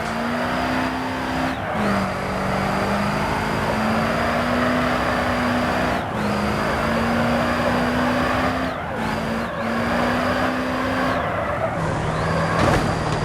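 An American car's engine in a racing video game on a celebratory lap, a steady loud drone that drops briefly at each gear shift, then climbs again, with no talk.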